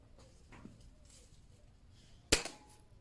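A single sharp crack from a Gamo Delta 4.5mm air rifle firing at a target, one close, brief shot rising out of a quiet background.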